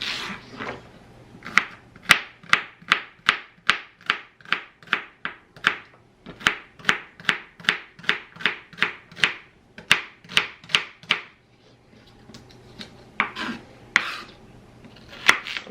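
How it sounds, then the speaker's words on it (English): Onions, celery and carrots chopped with a knife on a cutting board, a fast steady run of crisp close knocks in several bursts separated by short pauses, with no talking. "first I'm going to do those onions and celery and carrots because they're going to stay by each other"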